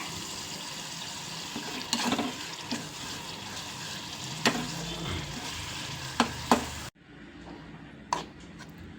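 Garlic chutney with tamarind cooking in a pan, a steady sizzle with occasional sharp clinks of a spoon against the pan, cutting to a quieter simmer near the end.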